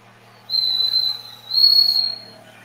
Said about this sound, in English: Can you hear the whistling?